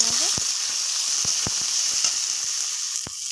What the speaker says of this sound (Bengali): এগুলো একটু ভেজে নেব।